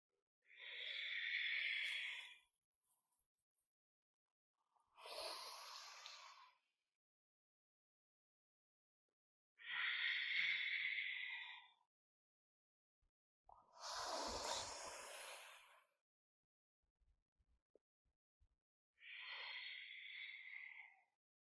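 Slow, deep breaths during a yoga flow: five long, separate inhales and exhales, each about two seconds, with quiet gaps between them, soft and close, and no talking.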